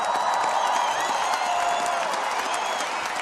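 Sustained audience applause with some crowd noise fills the room steadily throughout, a dense wash of clapping at moderate loudness for a singer named Felicia at a German sing-along of the song "Der Himmel geht über allen auf".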